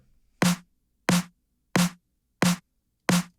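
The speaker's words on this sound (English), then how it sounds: "it's a very sort of like, drum and bass kind of snare drum" A drum and bass style snare drum sample strikes five times alone at an even, measured pace, each hit sharp and bright with a short ringing tail.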